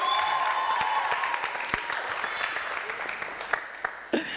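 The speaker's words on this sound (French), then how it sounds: "Mais les femmes peuvent applaudir pour elle quand même." Studio audience on a Gabonese quiz show applauding contestant Rose, the lone woman on set; steady mid-level clapping runs throughout, with a few sharper individual claps near the end and some talk mixed in.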